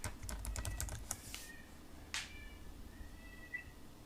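Quiet keystrokes on a computer keyboard come in a quick flurry of taps, then a few scattered clicks after a pause, faint and close with no speech.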